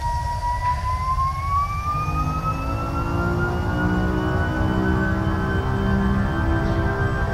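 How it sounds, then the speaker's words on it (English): Airliner jet engines spooling up in the Prepar3D v4 flight simulator game: a steady roar underlies a clear whine that rises in pitch and then holds, sustained and fairly loud with no talking. "we have a superb sound from the engines"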